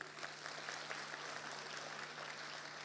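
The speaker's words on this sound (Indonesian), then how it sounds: "Tepuk tangan dulu." An audience at a stand-up comedy show applauds, a dense, even wash of many hands clapping that continues steadily but sounds somewhat distant and faint.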